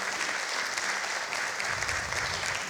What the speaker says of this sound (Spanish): Un aplauso para Marcelo por esas palabras tan importantes.